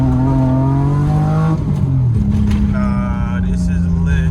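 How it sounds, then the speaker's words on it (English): A BMW E30 engine holds a steady rev of around two thousand rpm while the clutch is slipped, the drone dipping and then rising again as load changes, loud and close, with voices talking over it. "Let's start slipping the clutch."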